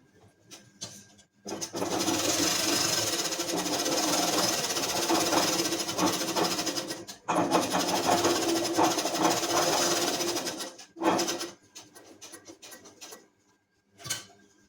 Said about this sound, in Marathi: इथे आता आपण जो आपण आकार दिलेला आहे त्याला टिप मारून घेणार आहोत